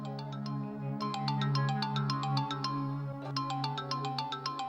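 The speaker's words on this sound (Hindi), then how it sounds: "फोन बज रहा है तुम्हारा" A phone ringtone plays a repeating electronic melody, steady and fairly faint, with no one speaking over it.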